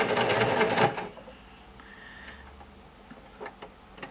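A home sewing machine stitches a quilted bag in a fast, dense whir for about a second, then stops, leaving quiet room sound with scattered light clicks and taps.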